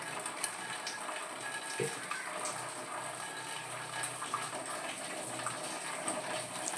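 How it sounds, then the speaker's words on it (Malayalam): Coconut oil is poured into a heated pan, a soft steady pouring and trickling that runs continuously at low volume with light background noise and no voices. "വെളിച്ചെണ്ണ ഒഴിച്ചു കൊടുക്കാം"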